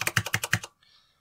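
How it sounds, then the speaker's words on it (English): Keys on a MechBoard64 mechanical keyboard clack in a quick run of about seven close, crisp presses, followed by a faint hum. "if you touch the keys like this, but if you touch them a bit harder"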